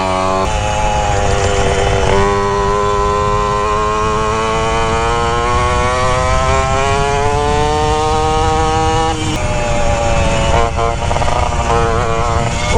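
A Yamaha Jog stunt scooter's small engine drones loudly and steadily while riding, its buzzing pitch climbing and dipping as the throttle changes, close and continuous throughout.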